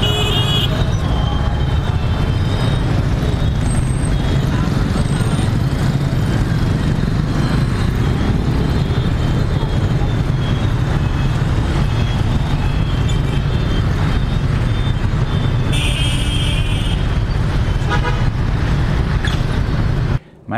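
Dense, steady street traffic in Vietnam, a continuous roar of engines with buses, cars and trucks rumbling close by, and a brief air-brake hiss partway through; no talk over it.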